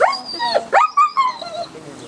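A dog yips and whines in a short burst of high, bark-like cries at a dog-training and social-temperament test, close and fairly loud, with no talking.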